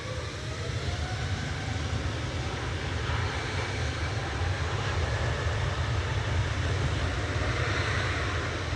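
EasyJet Airbus A320-200 jet at Manchester Airport, a continuous loud engine roar that holds steady throughout, with no voices.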